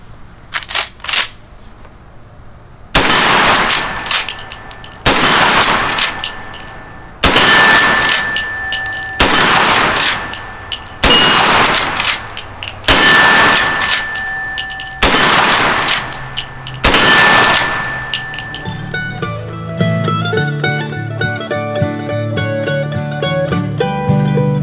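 A 44 Magnum color case hardened lever-action carbine fires about six loud, sharp shots a couple of seconds apart, each followed by a ringing steel target, before music takes over at the end.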